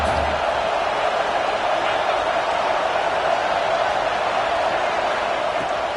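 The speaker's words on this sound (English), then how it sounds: "this crowd is turning it up a notch" A football stadium crowd during a game between Tiger and UM, heard as a loud, steady, dense roar of many voices rising on second down, continuous and unbroken throughout.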